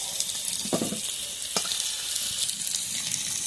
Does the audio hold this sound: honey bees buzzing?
no